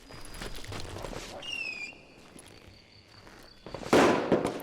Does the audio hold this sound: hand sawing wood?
no